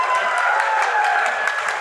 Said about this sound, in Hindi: मिस्टर टेपेजा जी, इसके लिए मैं जबरदस्त तालियां कहूँगा